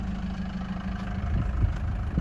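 A 2004 Hymer B524 motorhome engine idles steadily with a low, continuous rumble close by, no voices over it.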